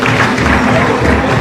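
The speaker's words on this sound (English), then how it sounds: "Another resounding applause for Honorable." An audience at an NPP political gathering at UCC applauds an honourable guest speaker: a dense, steady wash of clapping at close range for just over a second, with possible faint voices mixed in.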